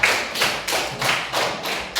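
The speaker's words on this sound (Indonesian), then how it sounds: "Berikan aplaus untuk kelompok 1." Applause for a student group in a classroom, clapped in unison as a steady rhythmic beat of about six even, fairly loud claps with no talking over it.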